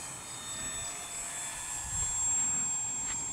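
An H-King P-51D Moonbeam McSwine 750mm RC model plane with a 6-axis stabilizer flies on its maiden outing, giving a faint, steady high electric whine in the distance over outdoor wind noise, rising slightly midway.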